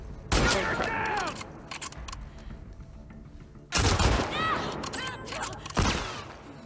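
Gunfire erupts in the video game The Last of Us Part 2 in separate loud bursts of a few rapid shots with ringing tails, split by quieter gaps of ambient game sound.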